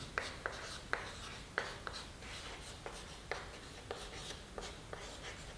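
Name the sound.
writing on a board for a physics example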